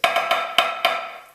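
Crisp drum strokes in a triplet pattern with diddles on the downbeats, led by the right hand: five sharp, ringing hits with quick doubled strokes, close and clear with no talking.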